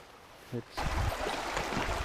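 Gore-Tex boots wading into a shallow river, a brief splash followed by a steady, broad rush and slosh of moving water close by, with a short voice sound just before.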